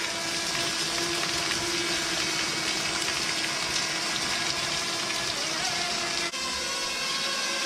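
Heavy rain pelting a small flying drone such as a Ryze Tello or DJI Mavic Mini, a dense steady hiss of drops layered over the high whining buzz of the propellers, loud and continuous.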